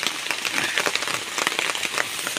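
Rain falls steadily during an outdoor trip in Temburong, Brunei, a dense continuous patter of drops hitting surfaces close by, with no voices.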